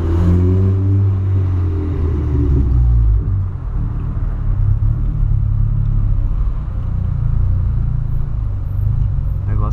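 Volkswagen Polo fitted with a sports exhaust, revving hard at close range: a loud, deep rumbling drone that climbs and then holds at a steady roar, with no voices heard.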